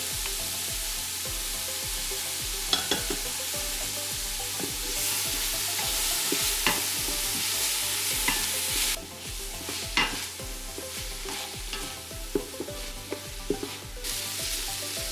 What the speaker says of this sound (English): Try to brown up the onions. We're going to put in 1 tablespoon of minced garlic.